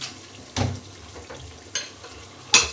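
Meat cooking in a hot pan for a simple home meal, a soft steady sizzle broken by three sharp bursts of stirring and utensil scraping against the pan, close and fairly loud.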